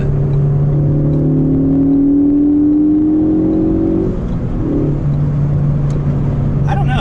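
A Ford Focus ST pulls in third gear from around 3,900 rpm, a steady, rising engine drone heard from inside the cabin, moderately loud and continuous.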